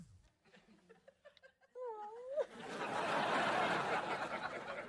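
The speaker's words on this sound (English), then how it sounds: "Hope you enjoyed that cat video." A cat meows in a cat video playing within a sitcom scene, a short wavering call followed by loud broad noise like laughter.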